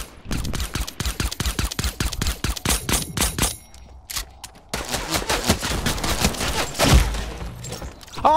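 Rapid bursts of pistol fire in the video game Fortnite, dense cracking shots in quick succession for the first few seconds, then a pause and more scattered shots and impacts.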